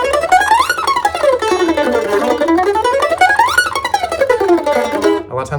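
Mandolin glissandos sweep up and down the strings in rapid, bright tremolo-picked runs, played loud and close, rising and falling in smooth arcs before stopping abruptly.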